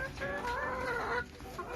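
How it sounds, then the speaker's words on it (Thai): Free-range laying hens cluck steadily at close range, a continuous soft murmur of overlapping clucks and calls with no voices over them. "ไก่ไข่"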